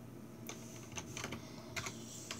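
Faint, quick keystrokes tap on a computer keyboard in a short irregular burst of light clicks.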